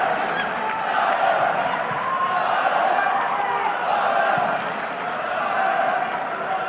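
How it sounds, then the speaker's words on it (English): Stadium crowd at a Bundesliga women's football match between Bayern Munich and Hoffenheim, a continuous murmuring roar of many distant voices that swells slightly and stays steady throughout. "you can hear the nervousness in the crowd"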